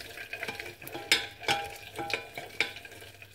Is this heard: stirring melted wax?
yes